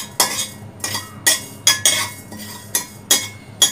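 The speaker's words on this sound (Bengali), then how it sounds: "সুন্দর একটা ফ্লেভারের জন্য নাড়তে হবে" Whole five-spice seeds stirred in hot oil in a pan while making a whole-olive sweet-and-sour pickle: about eight sharp metal clinks and scrapes of the spoon against the pan, evenly spaced and close, with no voices.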